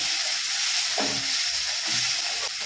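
Spice paste of ground ginger, cumin and green chilli with dried red chilli and bay leaf sizzles steadily in oil in a pan, a continuous close hiss with a couple of soft stirring scrapes.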